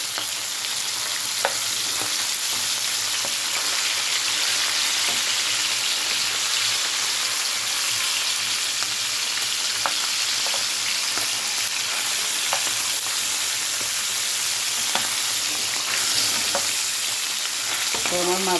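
Fish sizzles and spits steadily in a hot frying pan, a dense close crackle that runs unbroken throughout, with occasional louder pops and a faint stir near the end.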